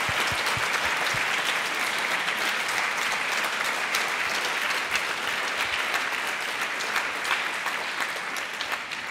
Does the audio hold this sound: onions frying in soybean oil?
no